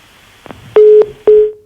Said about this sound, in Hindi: जफर, आपकी आवाज कहीं बीच में कट गई है, मैं दोबारा से मिलवा रहा हूं आपका फोन